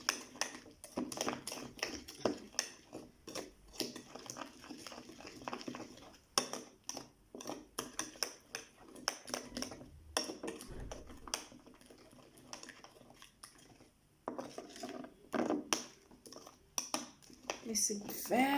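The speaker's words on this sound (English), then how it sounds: "Mix it very well together." Spoon or whisk scraping and clinking against a bowl while a detox facial mask mixture is stirred, a steady run of quick close taps and clatters with brief pauses.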